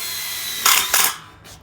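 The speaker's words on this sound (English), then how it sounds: "get yourself a tech gun and some of the tech screws which are provided, and then what you want to do is put one at the top" Screw gun driving a tek screw into a Colorbond steel fence post, with two short loud bursts of whirring drive over a hiss of background noise and a fainter brief burst after them.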